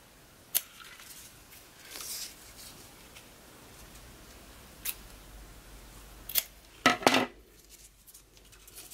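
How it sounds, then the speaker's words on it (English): Scissors snip the end of a 12-inch ribbon for a peppermint hair bow, a few sharp isolated clicks spaced out over quiet room tone, ending in a quick double snip close by. "Lastly, we are going to ribbon cut the end of our 12-inch long single piece."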